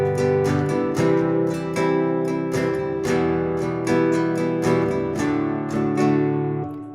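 Open chords strummed on a guitar in a plain progression, a steady rhythm of bright strums ringing full and close, with no voices.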